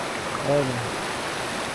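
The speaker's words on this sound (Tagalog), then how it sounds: "Maganda yung daloy ng tubig." A river flows beside a riverside campsite, a continuous broad rush of water heard close and steady, with someone speaking briefly over it.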